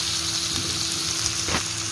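Turnip pieces and chicken fry together in a pan with a steady, continuous sizzle and crackle at close range, with a brief stirring scrape near the end and no talking.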